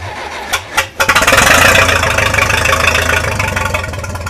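A 302 Super garden tiller's engine: a few quick cranking pulses, then it catches and settles into a loud, steady, chugging idle.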